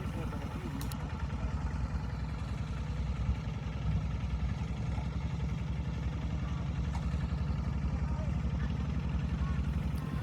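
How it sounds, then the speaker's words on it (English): Walk-behind tractor engine running in rural Laos, a steady mid-pitched chugging drone that continues unbroken, fairly close and loud, with a few faint clicks on top. "far more common were these walk-behind tractors that we saw everywhere"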